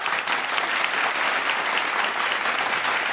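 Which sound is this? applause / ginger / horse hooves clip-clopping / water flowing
applause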